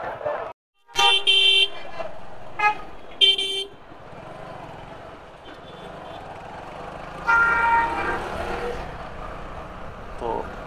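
Traffic jam at a road junction, with buses and motorbikes stopped close by. Several short, loud horn blasts cut through a steady engine and road rumble, and one longer honk comes near the end.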